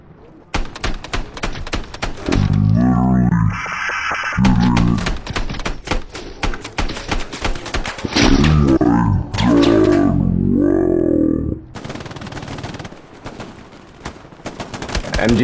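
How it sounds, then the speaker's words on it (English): Grease gun submachine gun bursts in the Hell Let Loose video game: loud, rapid automatic fire in repeated short and longer bursts, close up, with distant shots and a player voice talking in between. "fucking owning these guys with the grease gun"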